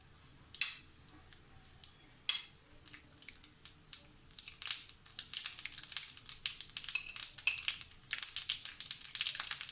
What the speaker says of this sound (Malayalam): അതിലേക്ക് വെളിച്ചെണ്ണയാണ് ഒഴിച്ചു കൊടുക്കണത്. ഇതിലേക്ക് കടുക് ആദ്യം